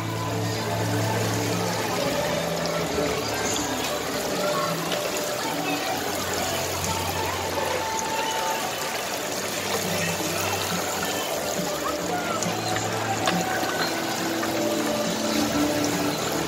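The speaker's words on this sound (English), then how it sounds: "Water." Water runs and trickles steadily throughout at moderate level, a continuous broadband wash with soft splashing, with faint voices now and then in the background.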